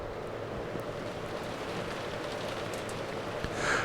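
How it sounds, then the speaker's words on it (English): Rain and wind from the visual novel Umineko, a steady dense hiss of falling rain with a soft low rumble, even and unbroken, with no voices. "as the sound of the wind and rain slowly filled the room once again"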